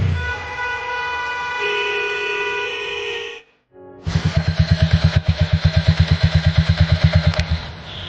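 A motorcycle engine drones at night, then cuts out briefly before a loud, rapid rhythmic thumping resumes, close and steady, with no talk.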